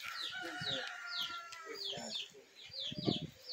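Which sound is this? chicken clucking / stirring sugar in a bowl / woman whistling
chicken clucking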